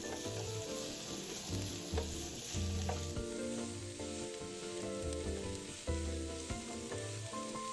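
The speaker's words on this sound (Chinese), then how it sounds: "100克洋葱切成丁倒入炒香" Diced onion, about 100 grams, frying in oil in a wok over medium heat, with a loud, continuous close sizzle and occasional clinks of stirring, no voices.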